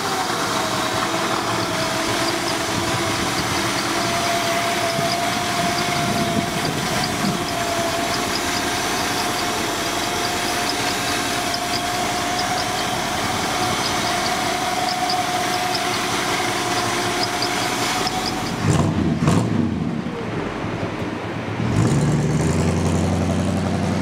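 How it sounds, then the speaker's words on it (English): A 1955 Ford Fairlane Crown Victoria engine runs steadily with a low rumbling idle and a steady hum, then clunking and shifting noises near the end as the car moves off. "Here we go for a ride in this Crown Vic."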